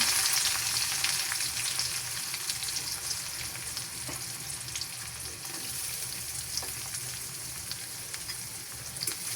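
Chopped garlic and onion frying in a pan with whole cumin make a steady, close crackling sizzle throughout, with light stirring clicks scattered across it.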